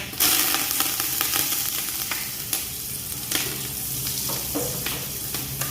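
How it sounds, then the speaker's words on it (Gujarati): Dried red chillies and curry leaves sizzle hard in hot oil for a tempering, a dense crackling hiss with sharp pops and spatters continuing steadily throughout, close and loud with no talk. "સૂકા મરચાં નાખશું. લીમડો નાખશું."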